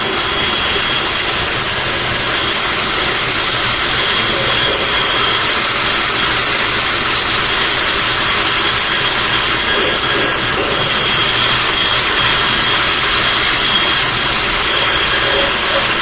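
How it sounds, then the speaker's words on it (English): A blow dryer runs continuously and loudly close by while glitter is set on a 20.5 oz wine glass, a steady whooshing hum with a faint high whine throughout. "And then I go back to my blow dryer."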